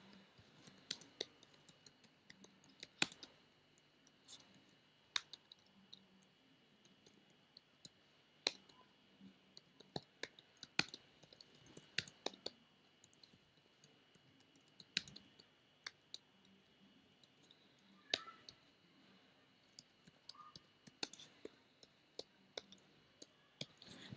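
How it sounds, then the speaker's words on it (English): Typing on a computer keyboard, faint scattered key clicks in an uneven rhythm against a quiet background. "here he would type his address"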